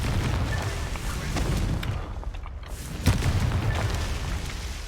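Confringo explosive spell blasts in the Hogwarts Legacy video game: two deep booming bursts, one early and a sharper one near the end, over dense rumbling game noise.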